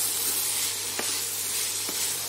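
Vegetables with beans sizzle and fry in a pan for homemade spring rolls, a steady hiss broken by two soft scrapes of a spatula stirring.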